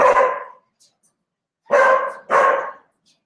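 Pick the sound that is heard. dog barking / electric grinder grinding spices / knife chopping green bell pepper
dog barking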